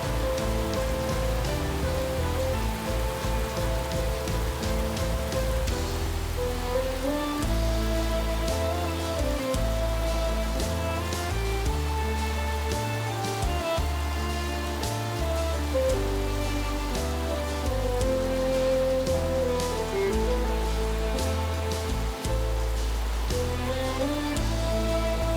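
Steady rain falls throughout, a continuous dense patter under a loud layer of music with no spoken voices.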